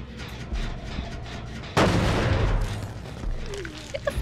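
A flashbang goes off on a generator in the Dead by Daylight game with a sudden loud burst, followed by a roaring wash of noise that fades over a couple of seconds, with faint game sounds before and after.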